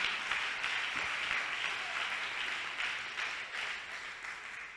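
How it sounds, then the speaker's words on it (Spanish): Church congregation applauding at a service, a dense steady wash of clapping from many hands that gradually fades toward the end. "Dele un aplauso fuerte a Jesús."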